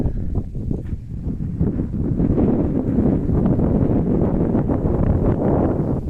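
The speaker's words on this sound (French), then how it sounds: "Oh, il y a du vent, ça fait du bien." Wind buffets the microphone in a steady low roar, gusting slightly stronger after the first couple of seconds, with no voices.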